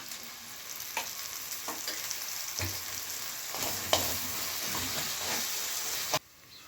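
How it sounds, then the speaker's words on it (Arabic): Garlic sizzles and hisses in a hot pan for about six seconds, with scraping stir strokes punctuating the steady frying before it cuts off abruptly near the end. "اقلب الثوم لحد لما اشم ريحته."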